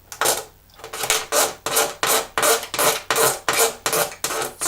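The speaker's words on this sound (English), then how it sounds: "you can just come in with your sanding sticks" A wasp model is sanded by hand with sanding sticks: a close, steady rasping rub repeated in about ten even back-and-forth strokes, with no other sound.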